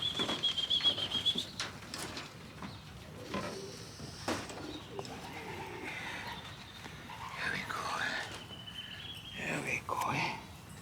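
Pigeon being handled after vaccination, its wings flapping in short bursts against hands, close and irregular, with soft coos, rustling and quiet voices in the background.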